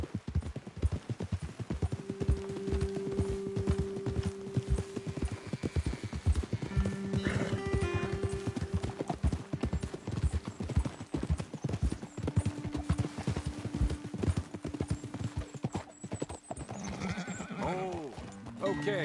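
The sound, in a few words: horse hooves clip-clopping, video game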